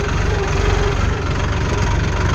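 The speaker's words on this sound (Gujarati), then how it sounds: "આપણું ટ્રેક્ટર લઈને આપણે જઈએ ખાલી સાઈડ" A tractor engine idles steadily nearby, a low, continuous rumble with a rhythmic knocking pulse that holds evenly throughout, with no talk over it.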